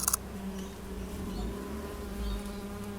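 Blue-banded bees buzz in a garden, a steady low drone that swells and fades as they circle nearby, with a few sharp clicks at the start.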